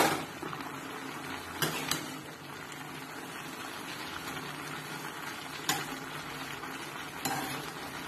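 Potato stir fry cooking in a covered pan over a medium flame, a soft steady sizzle and bubbling with a few faint lid or utensil clinks scattered through it.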